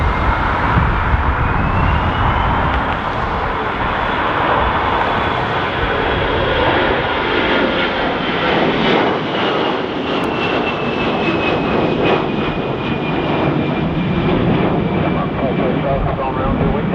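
An airliner going around on approach at Dublin Airport in strong gusty winds, a loud sustained engine roar with rising whine and wind buffeting, while voices talk over it.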